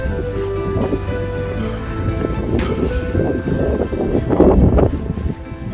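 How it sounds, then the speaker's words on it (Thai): Gusty wind blows steadily into the microphone during a snowstorm in a vegetable field, rumbling and swelling louder toward the end, with faint rustling underneath. "ทั้งลมทั้งหิมะ"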